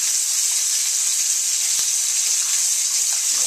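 Venison sears in a hot pan for a Deer Wellington, a loud, close, unbroken sizzle with one brief tap partway through and no talking.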